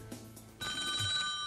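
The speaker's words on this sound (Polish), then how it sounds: "Jest telefon" A telephone rings in a television studio during a live phone-in quiz show, a steady electronic tone starting abruptly and sounding fairly faint.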